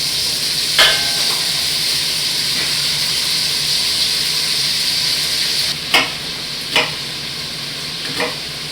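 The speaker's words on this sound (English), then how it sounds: "You want to hear that sizzle." Steady hiss of food sizzling in a hot pan, with a few sharp bursts of crackle and spatter near the end.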